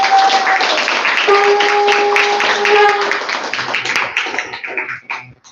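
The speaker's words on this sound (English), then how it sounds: "Can we please give them a round of applause?" Applause for Soni Prabhu and Cookie Mataji at a La Mercy Namahatta gathering, a steady wash of many hands clapping that runs for several seconds and thins out toward the end, with a sustained tone and some voices underneath.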